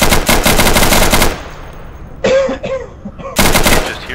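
Silenced gunfire in the Insurgency shooter game comes as a loud rapid burst of suppressed shots, a pause with faint clatter, then another rapid burst.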